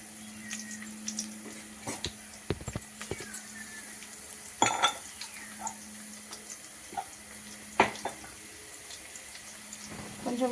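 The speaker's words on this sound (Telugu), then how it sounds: "కొంచెం వెల్లుల్లి ఫ్రై అవ్వనిద్దాం" Crushed garlic with skins frying in oil in a pan for black pepper rasam, a steady faint sizzle with occasional stirring clinks and scrapes close by.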